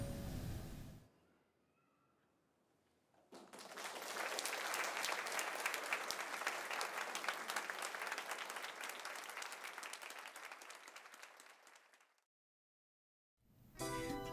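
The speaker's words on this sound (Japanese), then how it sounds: "演奏が終わるたび盛大な拍手を送っていました" Hall audience gives hearty applause after a live concert, a sustained dense wave of clapping lasting about nine seconds between quieter gaps, fading out at the end.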